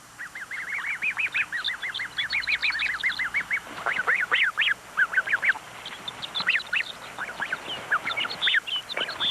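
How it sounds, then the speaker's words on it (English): Family of geese with four goslings on the tundra, a steady stream of high peeping gosling calls with adult honks and chatter mixed in, fairly close and continuous, no talking. "mother, father, and 4 goslings promenade across the tundra"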